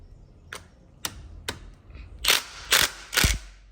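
A hand ratchet loosens a ball joint bolt on a car, several separate clicking pulls, the last three longer and louder bursts of rapid ratcheting, close up in a quiet garage with no talk.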